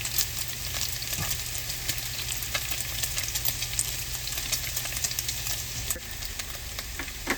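Bacon sizzles and spatters steadily in a pan, a dense continuous crackle with scattered pops, close and fairly loud, with no voices over it.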